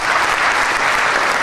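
Students in a motivational seminar audience clap together, a loud, dense and continuous wash of applause filling the room without pause.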